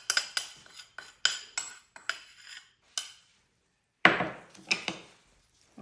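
Metal utensil clinks and scrapes against a bowl while mixing a lemon, olive oil and salt dressing, a quick irregular run of close, bright taps, a short pause, then a louder burst of stirring clatter.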